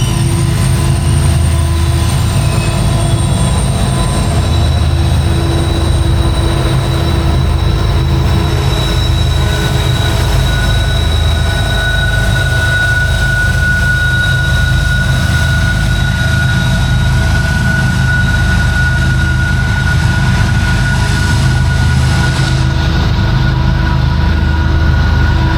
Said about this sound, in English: I'm glad that Norfolk Southern train rolled through during the recording of this vlog.